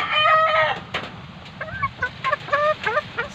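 Young stags around five to six months old cluck and attempt short crows in a series of close, repeated calls over a steady background.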